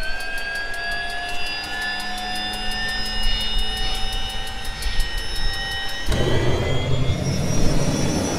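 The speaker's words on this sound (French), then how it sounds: "l'hélico il a décollé." Helicopter lifting off in a video game: a steady, loud whine of turbine engine and rotor with rising tonal harmonics, then a sudden shift to a broader roaring wash as it climbs, with no talk over it.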